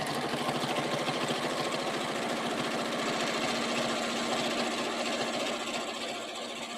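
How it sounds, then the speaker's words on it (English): Sewing machine stitching down the handle of a quilted backpack, a steady rapid mechanical whir with even needle pulses running continuously and close, easing slightly at the end. "And I will stitch down the other side"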